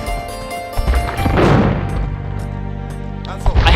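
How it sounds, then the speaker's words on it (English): Cannon fire in Age of Empires II shelling a shoreline: a heavy boom swells in the middle of a dense wash of battle sounds, with a sharper blast near the end. "Or until they start shelling our shoreline like that"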